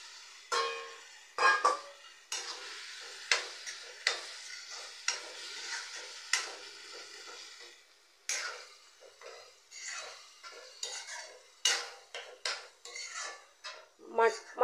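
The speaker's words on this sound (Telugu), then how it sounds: "ఇప్పుడు మటన్ వేసుకుందాము" Mutton tipped into a pan and stirred for a Telangana-style curry, with repeated metal spoon scrapes and clanks against the pot, a light sizzle underneath and an irregular, close rhythm with no speech.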